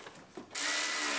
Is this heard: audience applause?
no